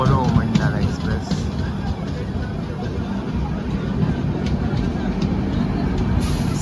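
The Coromandel Express passing at an Indian railway station, a steady, loud rumble and rattle of coaches with people talking nearby throughout.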